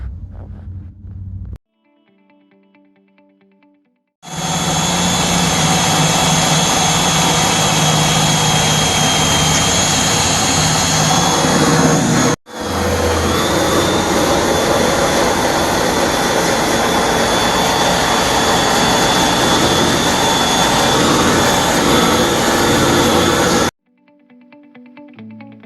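An angle grinder works the metal bodywork of a 1969 Dodge Charger in two long, loud, close, steady runs with a high whine and a brief pause between them, and short quiet gaps at the start and end.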